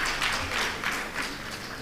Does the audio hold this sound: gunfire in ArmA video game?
no